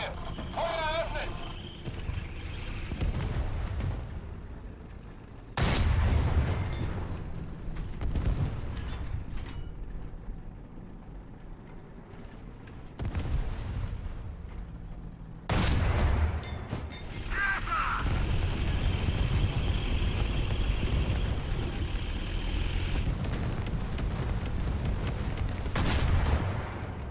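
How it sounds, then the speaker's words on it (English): Artillery strike explosions rumble in the tank game War Thunder as deep booming blasts roll in two heavy waves amid continuous battle noise, with voices talking over it. "Artillerieschlag! Koordinaten! Bravo! 7. Zerstören! Bravo! 7! Bestätige! Feuer eröffnet!"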